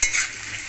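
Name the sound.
stirring aloo curry in a pan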